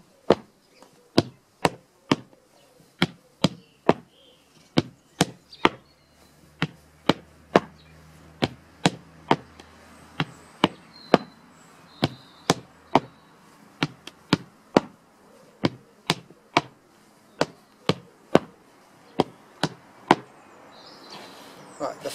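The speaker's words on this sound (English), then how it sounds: "a couple of toe lifts to start with" Flatfoot dance step lifts, with sharp, evenly spaced taps of the feet striking a hard floor, close and crisp, keeping a steady rhythm for a long stretch with a few short pauses.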